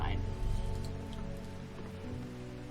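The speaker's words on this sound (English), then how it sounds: "Oh, another rainy day." Rain falls steadily in the Strange Horticulture video game, a soft constant patter on surfaces under a low musical drone, with a voice speaking over it.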